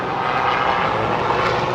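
Aircraft engine drone passing overhead outdoors, a steady, loud broadband rumble with no talk; the sound fits a helicopter flying over though the exact aircraft type is not certain.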